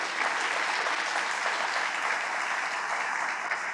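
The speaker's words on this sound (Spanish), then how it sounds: "Damos un aplauso fuerte al Señor, nos ponemos de pie." A church congregation claps loudly and steadily, a dense, continuous wash of applause filling the whole stretch without pause.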